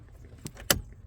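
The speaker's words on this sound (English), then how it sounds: "You hear the click" The turn signal switch on a Corvette with a faulty blinker gives two sharp clicks, a lighter one followed a quarter-second later by a louder one, heard close in a quiet car with no voices.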